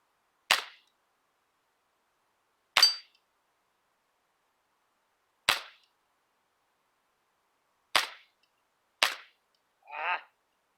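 A 33-year-old Sheridan air rifle fires outdoors: five sharp, crisp cracks spaced a few seconds apart, the last two closer together, followed by a short softer rattle, with quiet silence in between.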